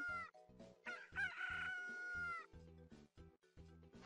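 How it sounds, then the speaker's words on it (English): A single rooster crow rings out clearly over cheerful, rhythmic background music, with short musical notes before and after. "call the rooster, say"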